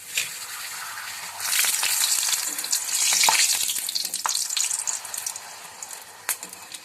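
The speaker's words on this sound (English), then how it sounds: "So now I'm going to fry this." Steady crackling sizzle of food frying in a pan, with occasional sharper pops and spits throughout.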